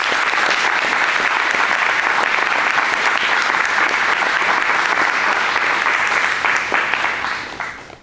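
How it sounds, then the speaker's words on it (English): Enthusiastic audience applause at a workshop, a dense steady wash of clapping that holds for several seconds before fading out at the end. "Let's give her a round of applause in advance."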